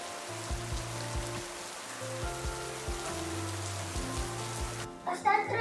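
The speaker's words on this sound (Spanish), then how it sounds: "Es que no ha parado de llover y fuerte" Steady heavy rain patters and hisses on a surface, with water leaking in during travel in the desert, a low hum underneath and a brief disturbance near the end.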